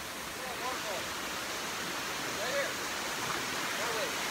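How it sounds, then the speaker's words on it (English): A waterfall in a stream in Costa Rica rushes with a steady, broadband roar of falling water, constant and fairly faint, with nothing else standing out. "Oh, there's a waterfall right here."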